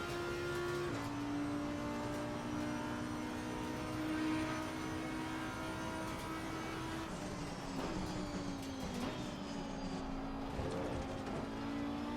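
An Audi R8 GT4 race car at Monza in a racing video game drones steadily with engine tones rising and falling through gear changes, loud and continuous throughout.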